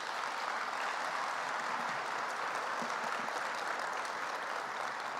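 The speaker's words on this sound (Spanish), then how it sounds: "Yo pido un aplauso para María Victoria Angulo." Dense, even applause from a large audience at a national education forum, steady and continuous throughout at moderate level, with no talk on top.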